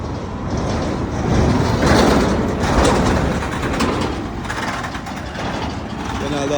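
Heavy trucks and machinery working at a large residential construction site in Fikirtepe, a broad continuous engine rumble with clattering, steady and fairly loud, while a person talks over it.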